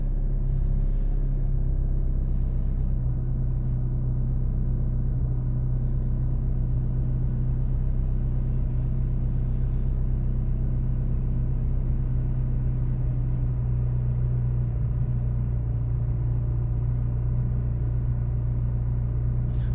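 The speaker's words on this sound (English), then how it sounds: "I'm just warming up my car." A car engine idles steadily while warming up, producing a constant low, close rumble throughout with no revving and no voices.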